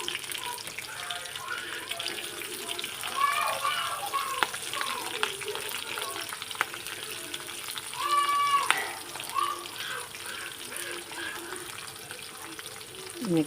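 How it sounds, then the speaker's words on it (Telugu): Chopped onions sizzle in hot oil with dried chillies in a pan for a cluster bean fry, a steady hiss and crackle that rises and falls as the pan is stirred, with someone speaking now and then. "నెక్స్ట్ ఉల్లిపాయలు వేస్తున్నానండి."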